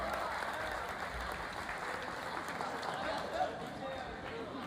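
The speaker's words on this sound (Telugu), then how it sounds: "చప్పట్లో" Audience at a school reunion clapping: a broad wash of applause from a crowd, moderately loud and sustained, with some voices mixed in.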